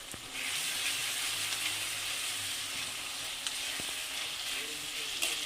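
Ginger paste sizzles in a pan with fried onion and garlic, a steady, fairly quiet frying hiss broken by a few sharp clicks of stirring.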